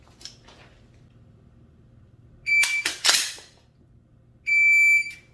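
A shot timer's sharp electronic beep during handgun dry-fire practice, then a couple of loud cracking shots, and another sustained tonal beep near the end, all close and crisp.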